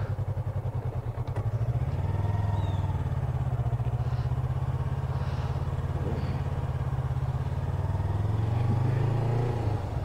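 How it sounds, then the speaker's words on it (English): A motorcycle pulls away from a stop as the clutch is eased out, its engine thumping in a steady low chug that firms up after a second or two and stays close and loud. "Now, when you're releasing the clutch, slowly until the bike gets speed."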